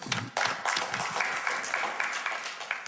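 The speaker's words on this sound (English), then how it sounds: "Give me a round of applause." Brief scattered clapping from a small group, moderately close, starting abruptly and continuing steadily for a few seconds.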